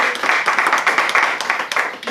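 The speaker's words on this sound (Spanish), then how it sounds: "un fuerte aplauso para todos los que están aquí" An audience claps at a poetry book presentation in a bookshop. The applause is dense and steady, close and fairly loud throughout.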